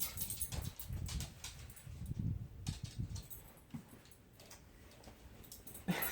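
A dog on a podcast set gives a few short, low barks spread over several seconds, fairly quiet against room noise, with no one talking over them.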